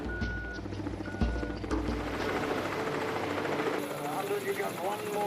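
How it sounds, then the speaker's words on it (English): A helicopter ferries cargo onto an ice shelf in Antarctica, its steady rotor chop and engine drone running loud and continuous throughout, with a voice talking over it. "The helicopter helps with smaller loads, ferrying 5 tons of cargo onto the top of the shelf."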